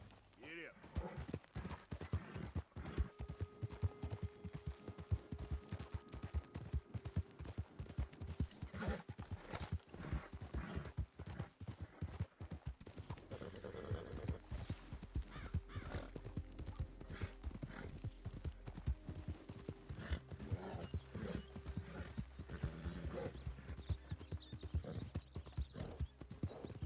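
Horse hooves clip-clopping in a rapid, steady gallop in Red Dead Redemption 2, continuous rhythmic hoofbeats with occasional whinnies, and faint game sounds beneath.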